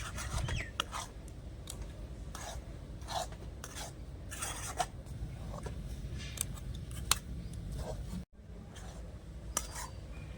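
A spoon steadily stirs and scrapes semolina cooking into a dough in a pan over low heat, giving soft repeated rasping strokes, close and alone, with a brief clink near the end.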